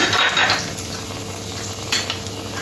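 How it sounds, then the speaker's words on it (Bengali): Cumin seeds and dried red chillies sizzling in hot oil as a tempering for okra do pyaza, a steady close frying hiss with a couple of brief metallic stirring scrapes. "ফোড়ন দিয়ে দেবো জিরে, শুকনো লঙ্কা"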